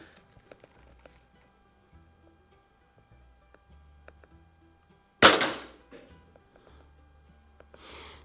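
Sheridan Blue Streak or Crosman 101 air rifle fires a single sharp, loud crack with a quick decaying tail, set against near silence and faint small clicks of handling; a softer noise follows near the end.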